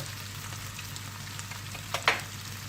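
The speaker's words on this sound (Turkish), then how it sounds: "salçamızın çiğ kokusunu güzelce kavuruyoruz" Tomato paste sautés in oil in a pan, making a soft, steady sizzle over a low hum, with a couple of sharper pops and a clack of a utensil near the end.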